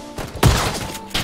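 A single burst of gunfire from a jump shot in PUBG, a loud thumping crack followed by a short fading tail, with a softer thud just after.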